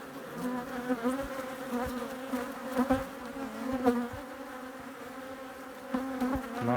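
Bees buzzing around an open log hive, a dense, steady droning hum with individual insects swelling louder as they pass close, continuous throughout.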